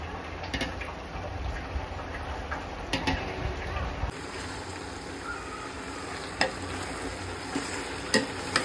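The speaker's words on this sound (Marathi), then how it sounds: "हे त्याची फोडणी आहे, फोडणी." Whole spices sizzling and being stirred in hot oil as the tempering for a home-cooked pulao, a steady low crackle with occasional sharp taps and scrapes of the spoon against the pot.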